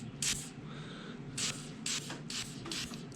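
A snow prep spray can hisses onto Traxxas tracks in several short, separate bursts of varying length, with quiet pauses between them.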